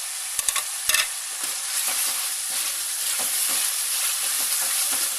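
Capsicum stir-frying in a pan for chicken seekh fried rice, a steady close sizzle broken by a few sharp scraping clicks of a utensil near the start and soft stirring throughout.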